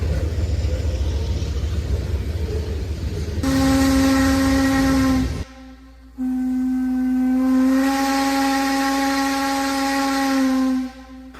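Steam locomotive 630 sounds two long, loud whistle blasts, separated by a brief pause, as it departs a station. The rumble of the train runs beneath the first blast and cuts off just before the second.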